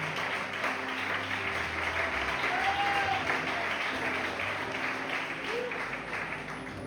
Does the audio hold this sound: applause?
yes